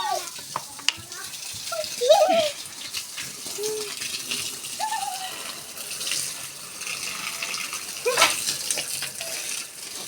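Water gushes steadily from a supply tap while people talk briefly and intermittently nearby.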